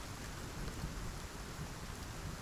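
Steady rain pours with rolling thunder during a storm in the survival video game Icarus, a continuous dense hiss and rumble heard alone at low volume.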